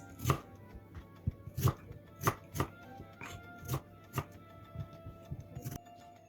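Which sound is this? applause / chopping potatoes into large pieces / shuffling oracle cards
chopping potatoes into large pieces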